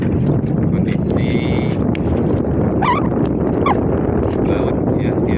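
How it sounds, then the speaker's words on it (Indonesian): Strong north wind roars across a fishing harbour in Banyak Nelayan village, a loud, steady broadband rush of buffeting that fills the whole clip without pause. "kalau di sini itu anginnya sangat kencang ya"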